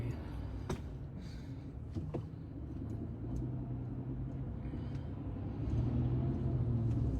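Steady low road rumble from inside a moving car, a continuous drone with a few faint clicks and knocks, heard faintly under someone talking.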